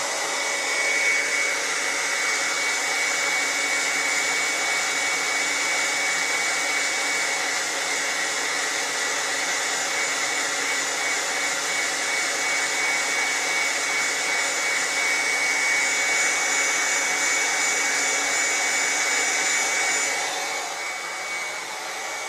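Hot air rework gun heating a circuit board to replace a micro stepper driver chip: a continuous, steady, close blowing roar lasting throughout, easing off slightly at the end.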